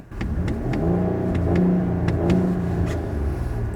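A Kia K8 3.5-litre 300-horsepower gasoline engine revs up close with a deep, heavy rumble that swells and settles, a few sharp ticks sounding over it.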